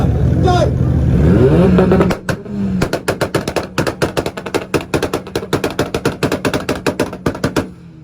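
A Honda car revs hard at a 2-step rev battle at IFO Ohio 2023: a loud, rising roar for about two seconds, then a long, rapid run of sharp, crackling limiter pops that bang in fast rhythm until near the end.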